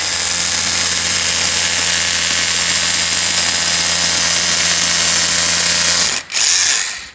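A Hilti TE 6-A22 cordless rotary hammer bores a 17 mm hole with a loud, steady, close hammering whir for about six seconds, then stops abruptly.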